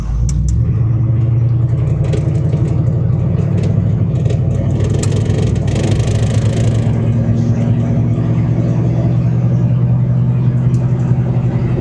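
A 1987 GMC Sierra 1500 pickup accelerating on an open road, heard from the cab as a loud, deep engine rumble that climbs in pitch through the gears, steady and close throughout.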